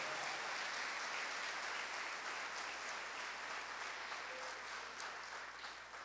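Congregation applauding during a church service, a faint, steady wash of many hands clapping from a distance for several seconds without a break.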